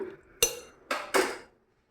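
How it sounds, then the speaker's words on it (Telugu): A metal pressure cooker lid closed over goat head curry, heard as three sharp clanks, one then a pair, with quiet between them. "ఈ విధంగా కుక్కర్ మూత పెట్టుకున్నాం కదా"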